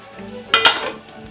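Beef cheeks and wine are deglazed in a hot pan, giving a quick burst of sizzling with two sharp scraping clinks of a utensil against the pan, then a fading hiss.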